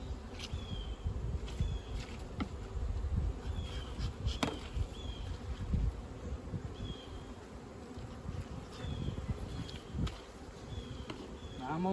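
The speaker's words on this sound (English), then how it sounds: "About 4 frames of bees there" A steady low buzz of many bees from a strong overwintered colony fills the air close by during a hive inspection, with occasional knocks and clicks of handling frames and faint bird chirps in the background.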